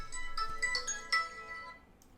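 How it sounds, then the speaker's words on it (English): A mobile phone rings on its own with a bright, repeating electronic tone, sounding in several short bursts that fade out toward the end, with no talking. "Sorry, that was my phone"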